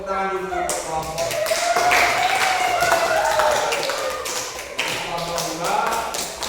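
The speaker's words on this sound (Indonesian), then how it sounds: "Baik, anak-anak, tepuk tangan dulu untuk kelompok." Children in a classroom clapping for a group, a fast dense patter of many small hands that runs for several seconds, with a teacher's voice speaking over the applause.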